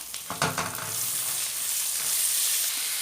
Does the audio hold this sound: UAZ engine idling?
no